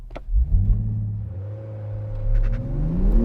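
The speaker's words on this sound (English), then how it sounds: "The final thing for me to do in this new Supra is to set a standing quarter mile launch time." A 2020 Toyota Supra makes a standing quarter-mile launch on a track, its engine rumbling and then revving hard as it accelerates, the rising pitch climbing steadily from close inside the car.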